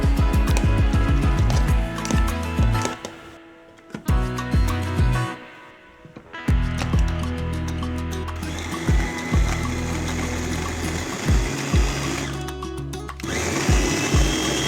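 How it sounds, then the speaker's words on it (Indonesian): An electric food chopper grinds water spinach stems with a little added water, whirring in loud bursts that stop and restart, the motor pitch dipping and rising as it works through the stems. "masukkan batang sayuran ini ke dalam chopper, lalu giling sampai halus"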